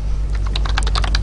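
Rapid, irregular keystrokes on a computer keyboard as program code is typed, close and crisp, a steady run of clicks with no voices.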